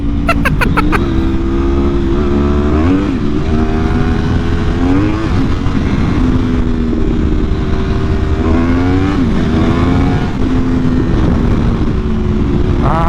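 Yamaha R1 motorcycle accelerating hard onto an interstate, a loud close engine howl climbing through repeated gear changes with rising and dropping pitch over constant wind rush, with no one speaking.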